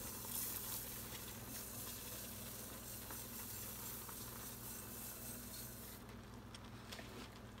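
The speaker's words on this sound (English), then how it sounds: "I'm going to add 4 cups of organic long grain brown rice" Organic long grain brown rice pours into a simmering vegan jambalaya mixture in a pot, a steady soft hiss and sizzle with faint grainy rustling, close and low, no talk.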